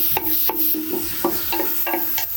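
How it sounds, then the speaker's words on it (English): A wooden spoon scrapes and knocks against a pot while breaking up sausage browning for a one-pot cabbage soup, repeated stirring strokes over a steady frying sizzle, close and without talking. "this wooden spoon to break up any of like the large chunks"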